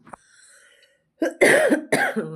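A person with a cold coughs twice, harsh and close, the second cough following quickly after the first, with near silence before.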